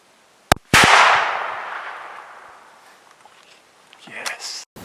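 A single rifle shot at a roe buck rings out sharp and loud in open country, with a long echo that fades away. Quiet voices follow.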